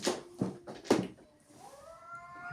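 A house cat lets out three or four loud, harsh, yowling meows in quick succession, followed by a softer, longer drawn-out cry, close by and with no talk.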